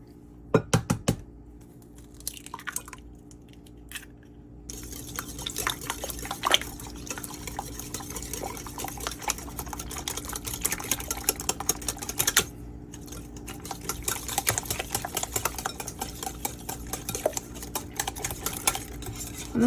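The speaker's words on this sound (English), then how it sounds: "I'm going to do the eggs next because sometimes they can take a little more effort to mix in" Four eggs being stirred into a retro Harvey Wallbanger cake batter, a steady run of scraping, tapping utensil strokes against the bowl that keeps going throughout, with brief pauses, no talk.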